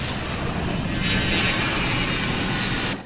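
An airplane flies in the film Home Alone, giving a steady, loud roar of engine noise that holds throughout and cuts off abruptly at the end.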